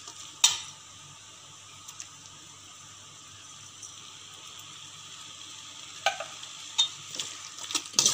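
Bell pepper chili and sauce stirred in a pan, a soft steady sizzle with occasional sharp clinks and scrapes of a utensil against the pan, close and quiet, no talking.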